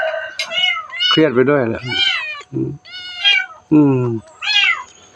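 A motherless kitten meows over and over, close and loud. The cries are high and wavering and come in a string of separate calls, while a person talks between them.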